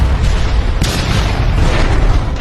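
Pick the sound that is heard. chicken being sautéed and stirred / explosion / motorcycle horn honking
explosion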